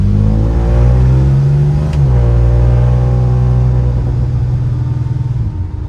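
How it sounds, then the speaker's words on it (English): The engine of a 1974 Dodge Dart Swinger with a 225 six-cylinder hums steadily, then its exhaust note rises and settles into a smooth, throaty drone, loud and close throughout. "It has a good exhaust note."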